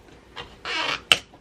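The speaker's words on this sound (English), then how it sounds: "That's the sound of you getting some coconut meat out of the shell." Knife prying fresh coconut meat away from the inside of the shell, heard close up as short scraping rasps and a longer scrape, ending in a sharp crack-like snap.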